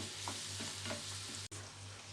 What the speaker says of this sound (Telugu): పచ్చిమిర్చి కూడా వేసేసుకుందాము. వేసుకొని కొద్దిగా ఫ్రై చేసుకుందాము.